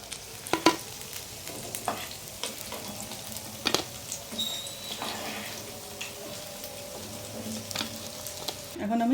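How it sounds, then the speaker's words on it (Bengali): Pieces of katla fish frying in hot oil in a pan, a continuous soft sizzle broken by occasional sharp clinks and scrapes of a utensil, close and moderately quiet. "এখন আমি বাকি মাছগুলো ভেজে নিচ্ছি"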